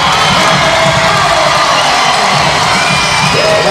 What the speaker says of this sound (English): the Metro Santa Raymond faithful, after seeing back-to-back dunks, have a reason to cheer